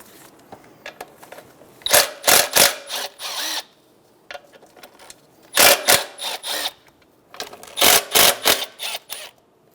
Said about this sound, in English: Using a 10mm socket, we're going to go around and remove all of the bolts off of this top cover.